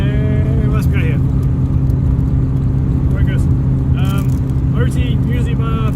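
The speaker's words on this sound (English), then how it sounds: "I'm going to keep driving at 100 odd k's an hour." A Nissan Silvia cruising at about 100 km/h on an outback road, a loud steady engine and road drone inside the cabin, with a person talking over it.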